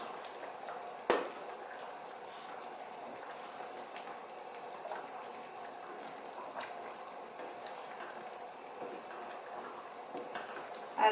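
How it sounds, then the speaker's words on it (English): Lamb stew with potatoes boiling in a pot, a soft, steady bubbling and sizzling hiss that stays low and even, with one small clatter early on and no voices. "As it boils, it thickens a little."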